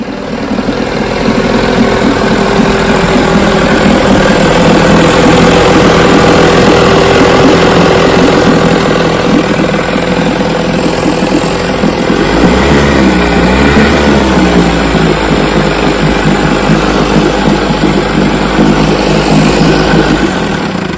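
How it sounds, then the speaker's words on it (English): A 65-year-old Johnson outboard motor runs steadily on a test motor, a loud, close, continuous engine drone with a slight change in tone partway through and no talk. "Put it on my test motor and it runs great."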